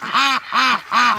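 Muscovy ducks give three loud, close quacks in an even rhythm, each call a raspy, drawn-out burst separated by brief pauses, with no voices present.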